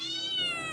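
A kitten gives a single drawn-out, high-pitched meow, close and clear with no other sound around it.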